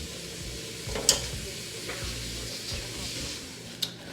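A vegan chicken and mushroom alfredo sauce simmers in a pan, with a soft steady sizzle and the occasional scrape or clink of a utensil stirring it. Two brief sharp clicks stand out.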